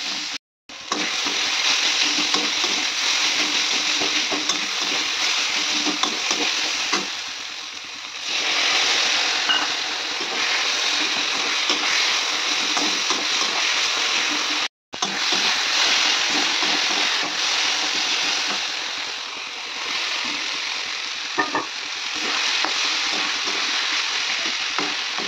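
Onions frying with green chillies in a pan, a loud steady sizzle with crackling throughout and a brief break midway, no talk.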